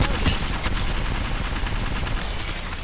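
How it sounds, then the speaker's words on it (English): Rapid gunfire from the video game Apex Legends, dense bursts of automatic shots crackling continuously across the clip with loud, sharp transients and no speech over them. "They're shooting at me."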